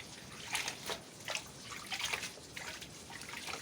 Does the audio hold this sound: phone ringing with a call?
no